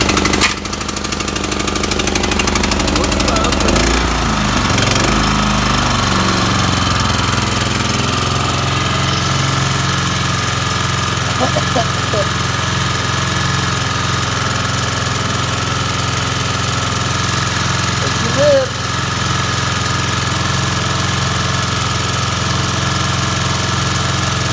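A cold lawn mower engine runs just after starting, a loud, steady, rough mechanical clatter with a rapid knocking throb that continues nearly unchanged, with a few small shifts in tone along the way.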